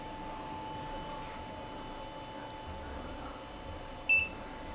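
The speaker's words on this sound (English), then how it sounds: "And you'll hear that beep, and the print head will start to heat up." Two short, bright electronic beeps near the end, the second lower than the first, over a steady hum of quiet machine noise from an UP Plus 2 3D printer.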